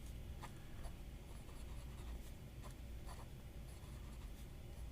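Fountain pen with a Wing Sung No. 5 fine nib scratching across notebook paper, soft faint strokes in short bursts over a steady low background hum, with no voices.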